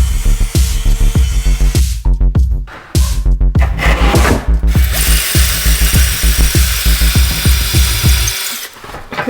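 A power drill bores into a wall to take a dowel in a home workshop, loud and close, with repeated bursts of grinding and rattling, brief stops and restarts, and a long continuous run near the end.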